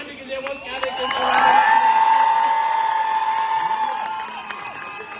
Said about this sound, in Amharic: አንድ ጊዜ ሞቅ ያለ ጭብጨባ